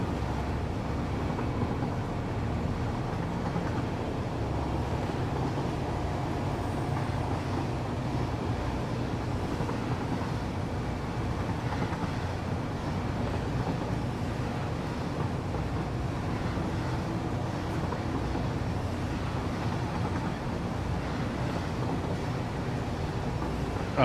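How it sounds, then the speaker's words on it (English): A train running in the video game Satisfactory gives a steady, continuous rumble with a broad rushing, wind-like wash, holding an even level throughout with no pauses. "Yeah, I'm heading back on my train."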